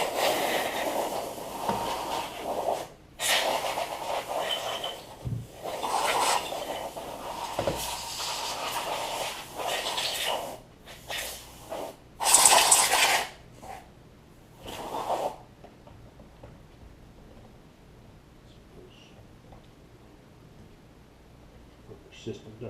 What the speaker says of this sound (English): Now I'm just going to use a can of compressed air here.